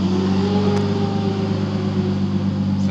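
An Infiniti G35 with test pipes runs with a loud, steady engine drone, the revs holding fairly constant, with no talking.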